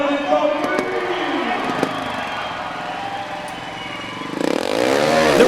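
Trial motorcycle engine at an indoor X-Trial World Championship round in Marseille, idling and blipping amid arena noise, then revving sharply higher near the end.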